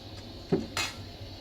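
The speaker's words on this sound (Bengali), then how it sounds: "আমি মাখানাটাকে একটু ভেজে নিচ্ছি কড়াই গরম হয়ে গেছে" Makhana (fox nuts) being dry-roasted in a hot kadai gives two short clinks and rattles about a quarter second apart, close up and fairly quiet, with no talking.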